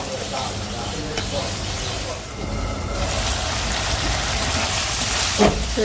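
Prawn curry masala sizzles and fries in a pan, giving a steady broadband hiss that keeps up throughout with a few faint clinks and scrapes, picking up slightly in the second half.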